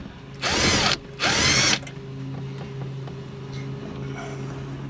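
Power driver or ratchet working a bolt on a Toyota Tundra radio, two loud whirring bursts of about half a second each close together, then a low steady hum with faint clicks.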